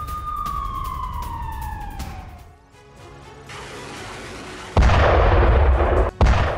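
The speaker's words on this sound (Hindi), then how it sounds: "लवीव शहर में एक साथ 5 धमाके हुए हैं।" Explosions from missile strikes on Lviv, Ukraine: a descending siren wail gives way to deep rumbling booms, then a loud sustained blast roar that cuts off abruptly, close and heavy.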